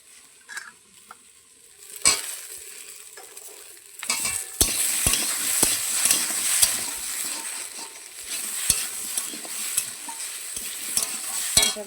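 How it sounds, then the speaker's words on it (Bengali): Bitter gourd, potato, beetroot and beans frying together in a wok, a steady bright sizzle that swells after a few seconds, broken by repeated sharp scrapes and clacks of stirring, close and alone with no talk. "উচ্ছে আলু বিট সব বিন কড়াই একসাথে ভাজবো"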